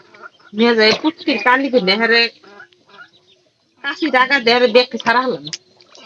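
Two close bursts of chickens clucking and squawking, separated by a brief quiet pause.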